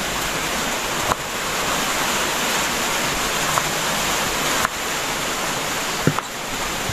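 A dense, steady roar of heavy rain pours continuously, broadband and loud, with a few sharp knocks and drips from a leaking roof breaking through.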